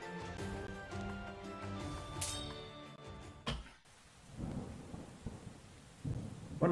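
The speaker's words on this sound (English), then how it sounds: "This weather's giving me the spooks. Did you hear that? Get it out, it's just thunder." Rolling thunder and steady rain from the Wargroove strategy game on a rainy night at Cherrystone Castle, a loud crack and rumble giving way to a hissing downpour over faint game music.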